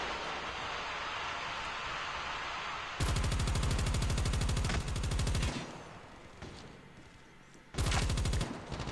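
Rapid automatic gunfire in the Call of Duty Mobile video game, a loud dense rattle of sustained bursts lasting a couple of seconds each, separated by a short lull.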